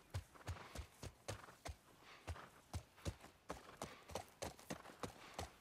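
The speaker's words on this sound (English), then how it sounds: "He not even galloping. He trotting." Hooves of a horse trot on pavement in The Last of Us Part 1, giving a steady, even clip-clop rhythm of about two to three strikes per second. The hoofbeats are quiet and fairly close, with no talk.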